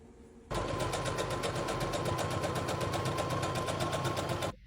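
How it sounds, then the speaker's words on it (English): A sewing machine stitches the crotch seam of a pajama pant leg, running in one steady fast burst of needle strokes for about four seconds, close and loud, with no talk. "you're just going to sew it together"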